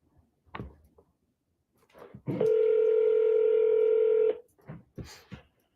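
Telephone keypad dialing tones: a single long, loud, steady tone lasting about two seconds, surrounded by a few short clicks and faint handling noises before and after.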